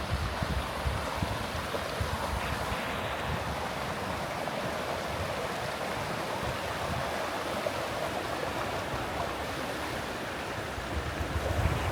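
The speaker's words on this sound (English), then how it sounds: "This is the Elbow River" Elbow River flowing through backcountry wilderness, a steady broad rushing wash of water, even and continuous at moderate distance with no voices.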